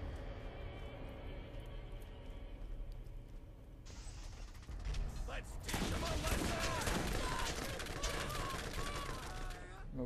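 Gunfire in the video game Borderlands, Secret Armory of General Knoxx expansion, gives dense rattling bursts of shots and impacts under game effects, getting louder and busier after a few seconds, with a voice heard over it.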